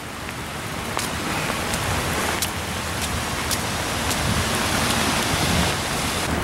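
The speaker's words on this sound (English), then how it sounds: "Walking in heavy rain." Heavy rain falling outdoors in Georgia or South Carolina, a loud, dense, steady hiss of drops with scattered sharper splashes, no voices.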